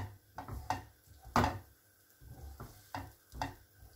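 Chopped onions fry in melted butter in a pan, with bursts of sizzling and stirring scrapes coming and going at close range, no talking.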